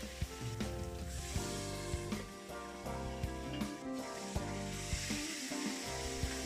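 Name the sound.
meat sizzling while frying in oil in a hot pan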